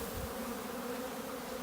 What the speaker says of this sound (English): we've got a good box of bees here